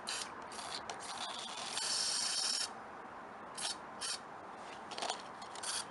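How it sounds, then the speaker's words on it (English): Short bursts of WD-40 spray hiss, one longer blast followed by several quick spurts, close by with no talking. "you're going to spray enough"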